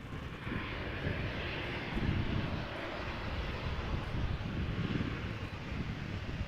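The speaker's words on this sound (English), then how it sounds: "Next up, Embraer 175 arriving from Luxembourg. KLM flight 1740." KLM Embraer 175 jet arriving at Amsterdam Schiphol, its engines a steady broadband roar that holds fairly constant with slight swells, heard at moderate distance with some wind buffeting.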